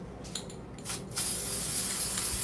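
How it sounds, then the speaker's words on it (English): A few short hissing puffs from a spray can, then a steady, continuous spray hiss close by that lasts to the end. "you're just going to spray over top of it"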